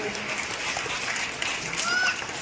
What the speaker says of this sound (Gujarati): તાળીઓના ગડગડાટ